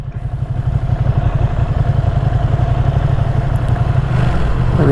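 A 2022 Ducati V2 Streetfighter motorcycle engine rumbles steadily at low speed in slow traffic, a continuous throbbing burble with faint clatter, loud and close throughout with no pauses.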